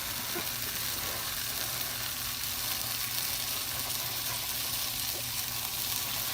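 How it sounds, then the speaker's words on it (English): Bologna frying in a little oil in a warmed skillet, giving a constant bright sizzle and crackle that stays steady and close throughout with no voices. "We got a skillet warmed up with a little splash of oil."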